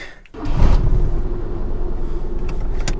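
A manual Hyundai Accent being driven, its engine a steady low rumble after a brief quiet start, with faint interior clicks and knocks over the drone.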